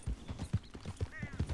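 Horse hooves clip-clopping in the video game Red Dead Redemption, a steady rhythmic trot of distinct hoof beats, fairly close and quiet, with a brief faint whinny near the end.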